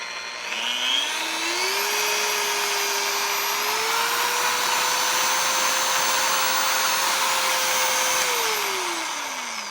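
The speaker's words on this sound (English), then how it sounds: "turn on the motor, and then you can slowly edge up the power and the speed from there" A Flex PE8 Kompact 3 rotary polisher motor whirs steadily and close, its pitch rising as the speed is raised, holding, then dropping near the end, with no talk.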